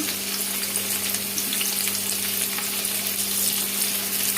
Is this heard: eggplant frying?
yes